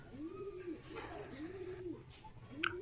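Pigeons kept for sale coo in four soft, rolling calls at an even pace, close by but quiet, against faint background noise.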